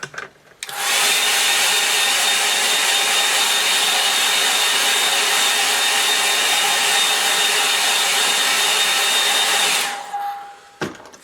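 A hair dryer blows steadily on a wet watercolour painting, a loud continuous whirring roar running for about nine seconds before switching off, followed by a faint brief tone.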